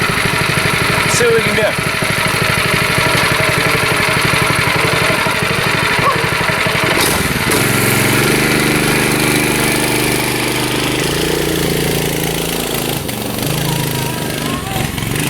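A small go-kart engine that has trouble idling runs loudly nearby, its steady buzzing note dropping and wavering into an uneven idle, while someone speaks briefly over it.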